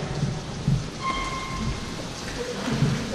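A thunderstorm sound effect plays during a children's theater play: steady rain hisses throughout while low thunder rumbles roll in and out, alone and without voices.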